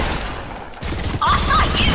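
Gunfire in an online multiplayer shooter, a short burst of shots amid busy game effects, with a person talking over the action.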